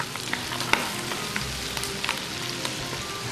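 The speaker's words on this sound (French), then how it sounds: "Donc là on entend bien la volaille chanter." Farm chicken pieces brown in a hot pan, giving a steady, fairly soft sizzle scattered with small pops and crackles, with no talking.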